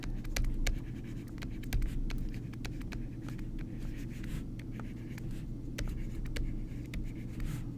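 Pen or marker scratching out a calculus maximizing-area problem, a steady run of short scrapes and taps over a low constant hum, close and fairly quiet.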